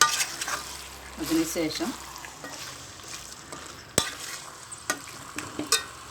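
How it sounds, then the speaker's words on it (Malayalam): Chicken curry is stirred in a cheenachatti wok: repeated scraping strokes and clinks over a steady frying sizzle, with a brief spoken word at the start. "നല്ലവണ്ണം ഇളക്കി യോജിപ്പിക്കുക."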